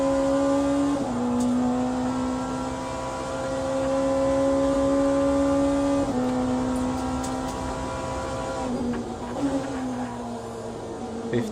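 A prototype race car in the Le Mans Ultimate video game holds a loud, steady engine whine near the corner into Indianapolis, with pitch shifts at gear changes and a lift around nine seconds, then pulling again.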